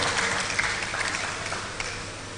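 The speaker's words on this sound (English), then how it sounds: "Let's give him another round of applause." Audience applause at a Nigerian university event, steady dense clapping from a crowd that holds at an even level throughout.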